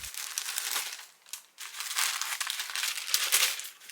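Tissue paper crinkles close up inside an Air Jordan 3 Fire Red 2022 sneaker box, a continuous bright rustle with brief dips as the paper is handled.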